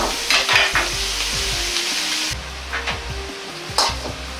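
Sliced bamboo shoot menma simmers and reduces in sauce with sesame oil, a steady bubbling sizzle close by. Soft stirring taps sound against the pan, and no one talks.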